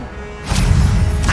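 A short burst of the Incendio fire spell in Hogwarts Legacy: a quick whooshing flare that swells from quiet into a loud, rumbling blast of flame lasting about a second.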